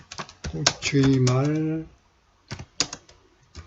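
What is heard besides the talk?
typing on a computer keyboard in WordPad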